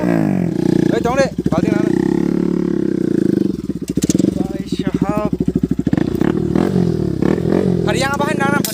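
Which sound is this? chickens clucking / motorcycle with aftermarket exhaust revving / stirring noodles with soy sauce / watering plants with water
motorcycle with aftermarket exhaust revving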